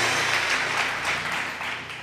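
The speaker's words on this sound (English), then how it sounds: "Clap your hands" A church audience applauds, a dense, steady wash of many hands clapping together, loud and close, fading slightly toward the end.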